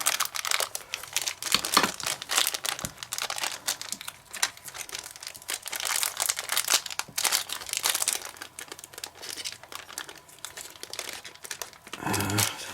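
Plastic packaging around a set of small tabletop miniatures is torn and crumpled by hand, giving a continuous, close, loud crinkling and ripping that runs without pause throughout.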